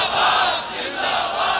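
Large crowd at a religious gathering in Pakistan shouting slogans together in loud, sustained unison, the roar swelling and dipping over a couple of seconds with no single voice standing out.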